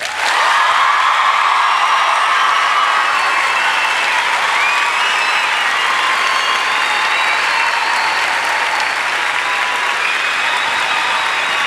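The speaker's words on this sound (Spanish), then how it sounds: "y ahora hagan palmas los que le den la razón a ella" A comedy special crowd breaks into loud, sustained clapping that holds at an even, dense level for about eleven seconds, with a few faint shouts mixed in.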